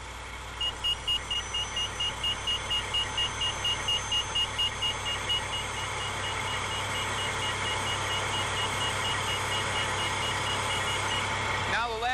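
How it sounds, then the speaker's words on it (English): A fire truck's hydraulic ladder lift runs with a steady electric motor whine and a rapid series of repeating warning beeps that stop midway, then the hum continues, with a person talking over it. "This hydraulic lift brings them down to a level that they're manageable"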